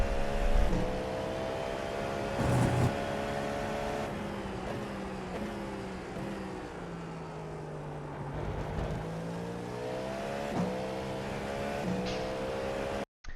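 GTP race car at full throttle through a flat-out left-hander at the Algarve circuit in iRacing, its engine holding a loud, steady high-pitched drone with rising and falling harmonic sweeps across the gear changes.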